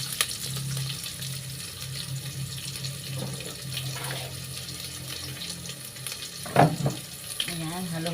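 Onion and ginger sautéing in a small pan, a soft steady sizzle with light clinks and scrapes of stirring and a brief louder clatter near the end, no talking.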